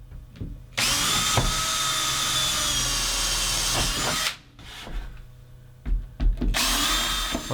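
A power drill drives fasteners to secure a newly fitted floor panel in a vehicle cab, whining loudly and steadily for several seconds, then firing in shorter bursts with brief pauses between them.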